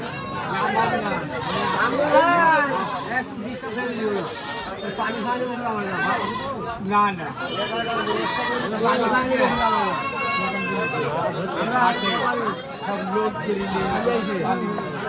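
Goats bleat repeatedly at a crowded rural goat market in Charkhat Nandangachhi, Bangladesh, where goats are sold ahead of the Qurbani festival, their cries mixed with dense crowd chatter and nearby talking throughout.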